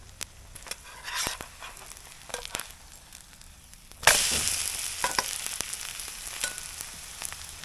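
Invasive shore crabs and a scallion pancake frying in a pan, a steady close sizzle that swells into louder crackling spatter partway through as it browns.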